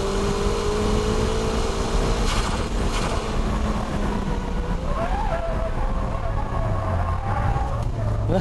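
Race car drifting through a third-gear 100R corner on a track, engine droning and sliding in pitch under a steady roar of tyre and wind noise, loud and continuous throughout.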